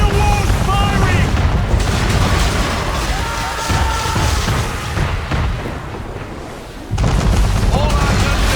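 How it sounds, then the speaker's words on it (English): Heavy naval cannon volleys from a man-of-war warship in Assassin's Creed III, booming in a dense broadside with rumbling blasts and battle din, with voices shouting over the gunfire. "Man of war's firing!"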